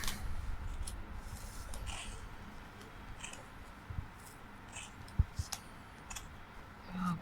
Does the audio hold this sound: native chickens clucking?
no